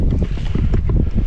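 Strong wind on a blustery day buffets a microphone outdoors, a loud, continuous low rumble with gusty swells and no talking.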